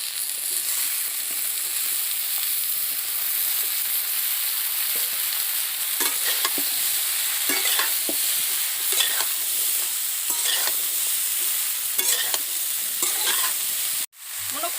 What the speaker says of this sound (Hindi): इसको चला देना है